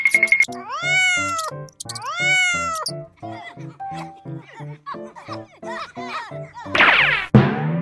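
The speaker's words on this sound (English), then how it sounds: "Bad cat." A cat meows repeatedly at close range in a string of drawn-out, rising and falling calls, with a brief scratchy clatter near the end.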